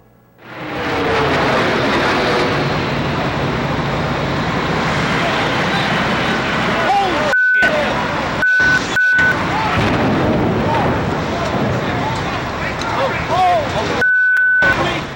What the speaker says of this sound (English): this clip is the only known footage of the first plane hitting the first tower